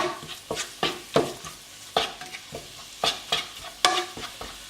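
Ground meat filling for stuffed peppers browns in a pan, a low sizzle broken by repeated loud scraping and clattering strokes of a utensil stirring against the pan, with no talk.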